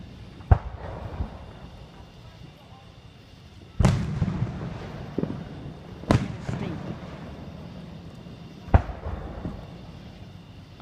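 Fourth of July fireworks bursting at a distance, four sharp booms spaced a couple of seconds apart with a low rumbling crackle between them, people talking faintly in the background.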